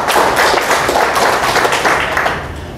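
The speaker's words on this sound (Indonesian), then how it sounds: "Berikan aplaus untuk Ustadz Abdurrahman" An audience claps for Ustadz Abdurrahman at a religious talk, a steady, close wash of applause that holds loud throughout and eases off slightly at the end.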